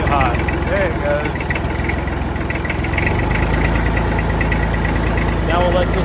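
A Ford Escape engine catches and settles into a steady rough idle, loud and close, with a deepening rumble after a few seconds and some faint voices in the background.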